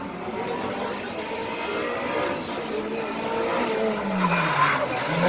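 A Peugeot 206 race car cornering through a slalom course at Biesheim in 2018, its engine whining loudly with shifting pitch while the tyres squeal through the turn, the car passing fairly close.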